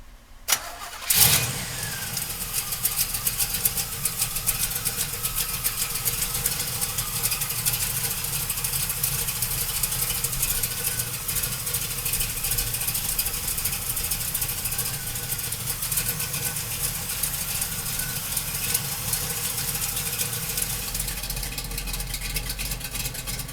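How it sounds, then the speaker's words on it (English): A 1968 Chevrolet Camaro big-block V8 cranks and fires up, then settles into a loud, steady, rumbling idle that carries on alone for the rest of the clip. "let's fire this big block up"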